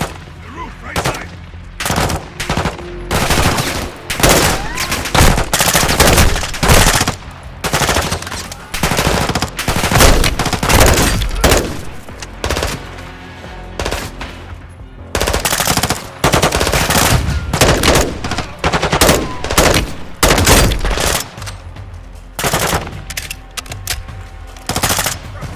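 Gunfire in Call of Duty Modern Warfare 2 during a prison break mission, loud repeated bursts of automatic weapon fire in rapid clusters separated by short pauses, sustained throughout.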